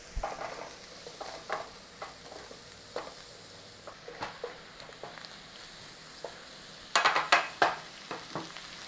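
Minced meat seasoned with salt and freshly ground black pepper, frying dry in a pan and being stirred round: a soft sizzle underneath repeated scraping strokes, which grow busier and louder near the end. No one speaks.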